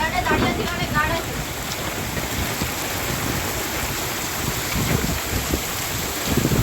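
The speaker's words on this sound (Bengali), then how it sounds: "ঝমঝম করে বৃষ্টি এসে গেছে।" Heavy rain pours down in the Sundarbans, rain even falling inside the house, a dense, steady roar of drops on surfaces that holds at an even loudness throughout, rising slightly at the very end.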